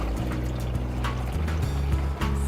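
Water pours steadily into the radiator of a 1950 GMC truck, a close, continuous gurgling flow with low rumbling underneath.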